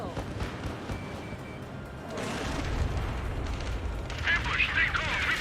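A missile explosion in the combat flight game Ace Combat 7 produces a dense, sustained roar that swells sharply around the midpoint and again near the end, heavy and continuous amid the game's battle noise.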